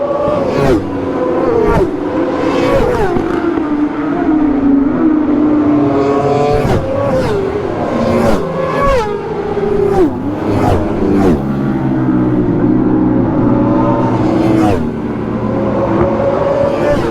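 Motorcycles rip down a racetrack straight at top speed. Several loud, high-revving engine whines rise and fall as the bikes pass close by in quick succession, with gear-change blips in between.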